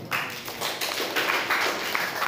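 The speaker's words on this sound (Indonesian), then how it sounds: "tepuk tangan untuk kita semua dulu" A group of people clapping together at the close of presentations, a close, steady burst of applause with no voices over it.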